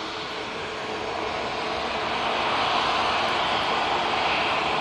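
A Jet2 Airbus A321neo airliner on approach to Manchester Airport, heard as a steady, broad engine roar that swells slightly louder over a few seconds, continuous and fairly distant, with no talk.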